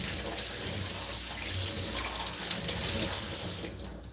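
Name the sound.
rinsing food under running tap water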